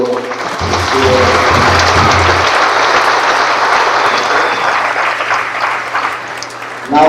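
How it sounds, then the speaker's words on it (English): A graduation crowd at a high school ceremony gives a loud, sustained round of applause for bilingual students, dense clapping with a low hum and a voice briefly at the start and end. "We give one more round of applause for our bilingual students."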